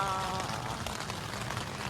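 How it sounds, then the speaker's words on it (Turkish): A sudden rain shower at a UK music festival campsite patters steadily and faintly on tents and the ground, a dense even hiss with no talk over it. "Yağmur bastırdı."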